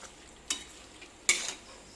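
Chalta (elephant apple) pickle stirred in a pan with mustard and ginger paste, giving two or three brief scraping strokes over a faint sizzle, fairly quiet and close, with no talking.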